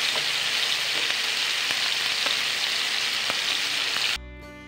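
Pork tapa sizzles steadily in a pan as it browns, a close, even frying hiss with faint pops that cuts off abruptly near the end.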